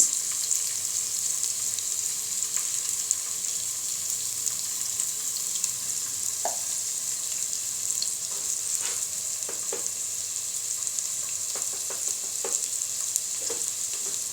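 Prawns tossed with water spinach in a frying pan give a continuous bright sizzle and hiss, with scattered spatula clinks and stirring in the second half, close and unaccompanied by speech.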